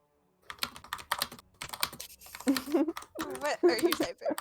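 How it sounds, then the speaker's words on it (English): Keys clatter on a computer keyboard in quick, uneven bursts of typing, with people talking over it throughout. "What are you typing?"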